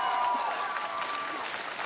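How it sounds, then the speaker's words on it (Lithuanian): A crowd at the Dainų dainelė children's song contest applauds with steady, even clapping and faint tonal sounds underneath. "Jums ploja visa Lietuva."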